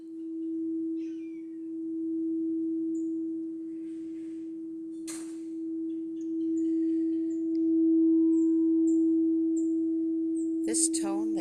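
A crystal singing bowl sustains a single pure, steady tone for the sacral chakra, holding evenly throughout with faint soft chirps and small sounds scattered above it, and a brief clatter just before the end.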